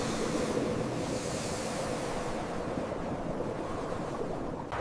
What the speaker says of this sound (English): the sea itself came for Midway,